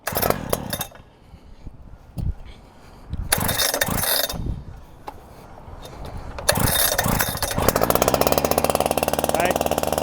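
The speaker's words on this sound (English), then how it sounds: "It's going to start in high idle. So initially it'll ramp up like that." An EFR vent saw's engine fires up and ramps to a high idle, its loud mechanical roar surging and dropping in bursts before settling into a sustained, buzzing run.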